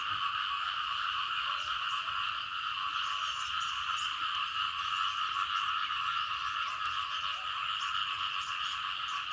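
Frogs croaking in a forest after rain, a dense, continuous chorus of high trilling calls layered in steady bands, loud and unbroken with no voices.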